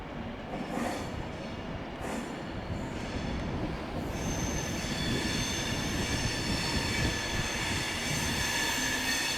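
An Avanti West Coast Class 390 Pendolino high-speed train runs on the West Coast Main Line between London and Birmingham, with a continuous rumbling roar of wheels on track and high metallic wheel squeal rising steadily.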